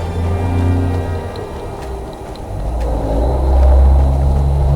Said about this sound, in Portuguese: barulho de caminhão passando aqui